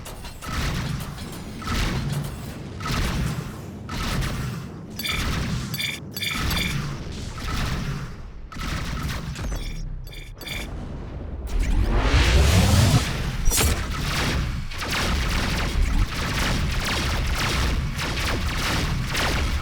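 Space combat in Rebel Galaxy: missile impacts and explosions crash and boom amid whooshes and mechanical clatter, growing heavier and louder midway as a deep rumbling blast swells.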